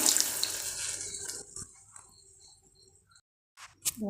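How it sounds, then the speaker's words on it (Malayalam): Water poured into a pot of roasted rice for egg biryani, a close, loud watery pour lasting about a second and a half before trailing off into quiet, followed by faint kitchen sounds. "ഒന്നര കപ്പ് വെള്ളം ഒഴിച്ച് കൊടുക്കുന്നുണ്ട്"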